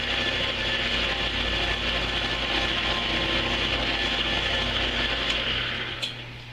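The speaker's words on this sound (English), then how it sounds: "At this point, I'm going to stop with the sanding lengthwise" Abrasive paper rubbing lengthwise along a wooden kit pen on a lathe at fine grits near 4,000, a steady close hiss with the lathe's hum beneath, easing slightly at the end.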